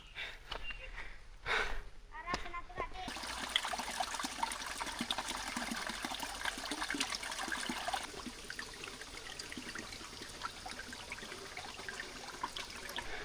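Water streams steadily over a rock slab fed by a waterfall on the Sri Pada (Adam's Peak) trail in the dry season. A continuous close rushing wash fills the clip after a few brief knocks at the start.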